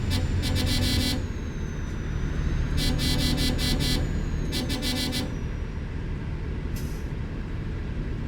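Small refrigerated truck driving in Euro Truck Simulator 2, a steady engine and road drone with bursts of air-brake hiss and clicking bursts, loud and continuous with no talking.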